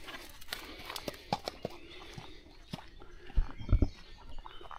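A horse walks past on a woodland hiking trail, quiet scattered hoof clops at a moderate distance with faint birds, growing a little louder near the end.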